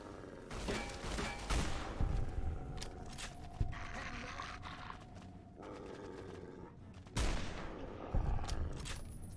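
Gunfire in the video game Fallout: New Vegas, scattered shots and sharp bursts amid a noisy firefight, fairly faint with a few louder impacts.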